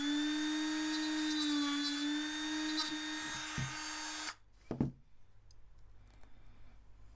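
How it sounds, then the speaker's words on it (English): A Dremel rotary tool grinding the mounting lugs off a small plastic servo motor, giving a close, high buzzing whine that runs for about four seconds before cutting off, followed by a few clicks and handling knocks. "I eventually settled on using my Dremel tool"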